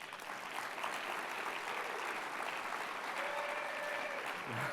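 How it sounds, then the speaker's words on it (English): Conference audience applauding at a corporate innovation awards event, a dense and steady wash of clapping from many hands that holds evenly throughout at a moderate distance. "I think we need one more round of applause for integrity check."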